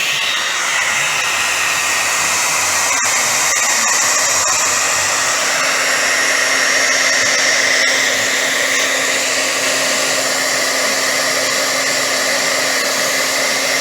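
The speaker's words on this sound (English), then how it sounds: "Warming up the old heat gun here." A heat gun blows steadily on heat shrink wrap during a boat subwoofer install, a loud, continuous close-up whooshing hum of hot air that stays even throughout, with no talking.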